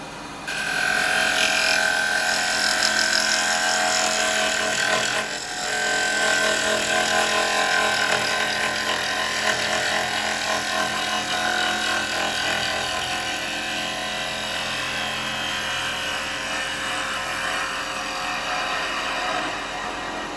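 A woodturning lathe spins as a carbide chisel cuts a small bowl from firewood, giving a continuous close whirring, scraping drone that holds steady with a brief dip partway through and no talk.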